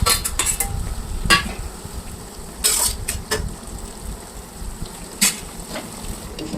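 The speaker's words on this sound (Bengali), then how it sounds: "এবার জলটা ভালো করে ফুটে উঠলে তার মধ্যে দিয়ে দেবো আগে থেকে ভেজে রাখা পটলগুলো" Fried pointed gourd pieces drop into boiling poppy seed water in a pan, giving a loud steady sizzle and bubbling broken by several sharp clinks and scrapes of utensils, with no talking.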